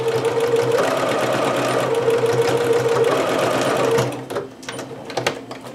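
A sewing machine stitches fabric for a Butterick 6322 pattern garment with a close, steady mechanical whir for about four seconds, then stops, followed by light clicks and handling noises.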